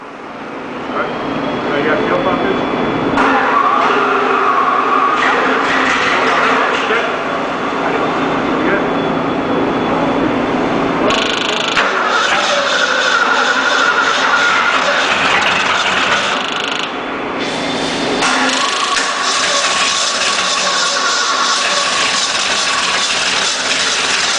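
A Ford 302 V8 engine runs steadily and loudly throughout, a continuous droning rumble with a few shifts in pitch, while people talk over it.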